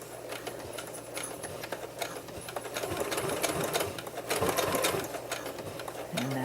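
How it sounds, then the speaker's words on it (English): A sewing machine stitches a fabric potholder, running in a steady rapid mechanical whir with quick ticking needle strokes, close and fairly loud, stopping and starting as the fabric is turned and restitched at a stress point; faint speech in the background. "put your needle down and turn your fabric all the way around and stitch in the same place again"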